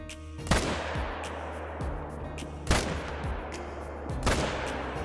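Rifle shots ring out at gray wolves in the Call of the Wild hunting game, three sharp loud cracks spaced a couple of seconds apart over a steady outdoor ambience with faint scattered clicks.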